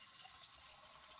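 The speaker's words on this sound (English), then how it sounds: "I'm running a glass of water." Water from a tap pours into a glass, a soft, steady hiss of running liquid heard faintly and alone for a moment.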